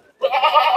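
Sojat goats on a goat farm give one loud, close bleat that starts abruptly and wavers steadily for most of a second.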